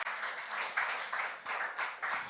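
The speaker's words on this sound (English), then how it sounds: "A big clap from us here that you made it." An audience claps through a kick-off ceremony at a healthtech incubator, a steady wash of applause with faint rhythmic pulses and no speech.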